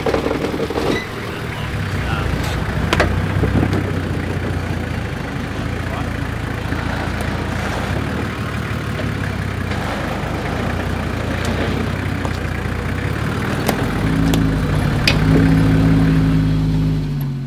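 Nissan GQ Patrol 4WD engine working through off-camber ruts, a steady mid-low drone with revs rising and falling, fairly close, mixed with rattles and knocks and some talk.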